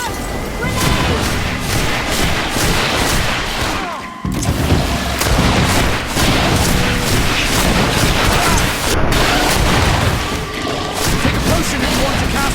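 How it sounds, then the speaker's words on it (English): Heavy booming explosions and crashing gunfire from a grenade blast in the video game Greedfall, loud and dense across the whole stretch, with brief dips and a short gap partway through. "Watch out! Grenade!"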